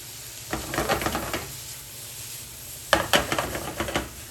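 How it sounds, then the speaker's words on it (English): Chopped vegetables sweating with kosher salt in a pan, a soft steady sizzle with two bursts of stirring and scraping against the pan, fairly quiet. "we're gonna sweat those veggies"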